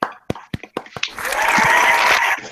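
Studio applause to celebrate a channel passing 1,000 subscribers on a wrestling review show: a few short sharp bursts, then about a second of dense, steady clapping that stops abruptly.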